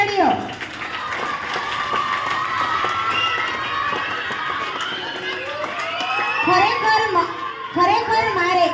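A school audience at a Janmashtami celebration claps and cheers for small children on stage, with excited children's shouts and chatter rising over a steady patter of clapping that swells toward the end.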